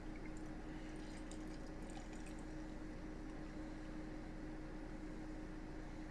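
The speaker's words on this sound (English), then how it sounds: "give this a pour" Innis & Gunn Fired Oak Scotch Ale pours from the bottle into a glass with a steady, continuous liquid rush and light fizzing near the start.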